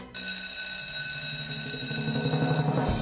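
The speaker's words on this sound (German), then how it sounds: "Ich betätige den Alarm." A fire station alarm bell ringing steadily in an animated fire-brigade training scene, a continuous bright electric ring held for several seconds.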